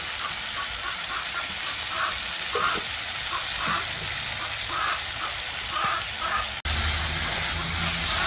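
Potatoes, radish and tomatoes sauté in hot oil in a pan for a fish curry, giving a steady, close sizzle with light crackles and a brief clatter near the end.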